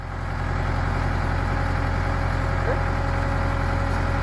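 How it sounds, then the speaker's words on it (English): A steady, rumbling diesel tractor engine idling close by on a farm, a constant low throb with no change in pace and no voices. "I'm going to jump in the tractor, you follow me"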